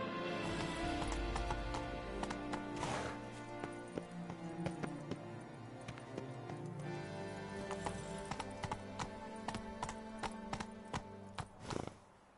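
Roach the horse gallops in The Witcher 3: Blood and Wine, steady hoof clip-clop running throughout under game music and ambience, with a louder burst near the end.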